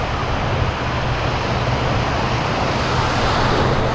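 Rough ocean surf rolls onto a Jacksonville, Florida beach, a continuous loud roar of breaking waves mixed with wind rumble, steady and unbroken with no talking.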